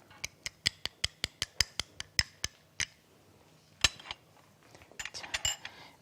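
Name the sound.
mixing seasoning sauce in a bowl (garlic, ginger, syrup, sesame oil)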